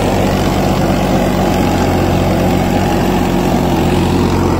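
A Farmtrac 65 EPI tractor engine runs steadily with an 8-foot rotavator, a constant, heavy low rumble, loud and close, with no pauses or talking.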